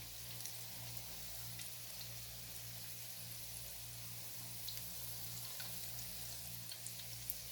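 Corn and cheese samosas frying in hot oil, a faint, steady crackling sizzle with a low hum underneath, unchanging throughout.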